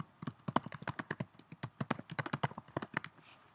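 Rapid, close keystrokes on a computer keyboard while typing JavaScript code, a quick uneven run of crisp taps and clacks with no voice over them.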